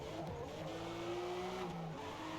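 A BMW M4 Competition laps the Nürburgring in Forza Motorsport, its engine a steady, close, sustained drone that rises slightly in pitch, with a faint tyre hiss and no talking.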